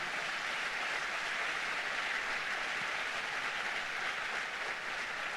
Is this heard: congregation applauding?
yes